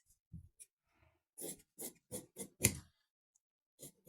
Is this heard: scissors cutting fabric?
yes